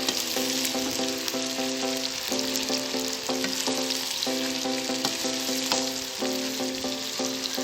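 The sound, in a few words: onions frying and being stirred for chicken biryani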